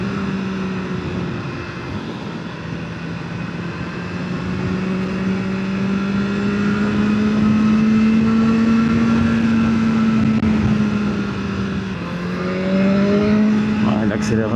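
A 2024 BMW S1000R motorcycle engine accelerating, heard as a loud, continuous drone that climbs slowly in pitch, holds, then shifts again near the end.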